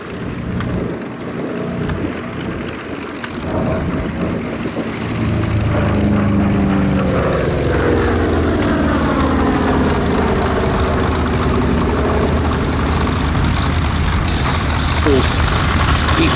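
A P-47 Nellie B fighter plane making its final pass at the Duxford Battle of Britain air show: a propeller engine drone that swells louder and sweeps in pitch as it passes, with a commentator's voice over much of it.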